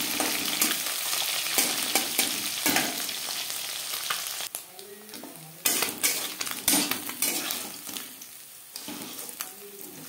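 Small fish sizzling in hot oil in a pan, for a Bengali radish fry, a steady loud crackle with a few utensil scrapes and clinks and no voices.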